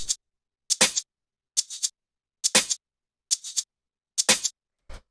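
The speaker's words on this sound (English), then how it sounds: "we have this little shaker thing down here, which sounds like this." A small shaker sample in a future garage beat, playing alone as six short, bright, crisp bursts spaced evenly across the clip, each a quick double rattle.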